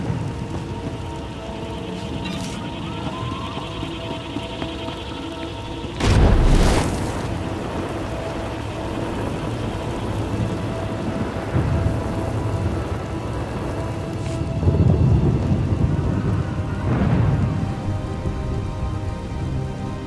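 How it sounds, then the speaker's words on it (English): Steady rain pours down through a thunderstorm in a science-fiction video game, with a heavy rumble of thunder near the start and softer rolls later, and no voices. "Hard to track them through the storm. Rain's wiped out the trail."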